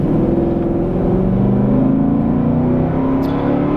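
A loud engine roars as a lifted Nissan Titan Platinum Reserve pickup truck accelerates hard, the pitch climbing steadily in a continuous close drone.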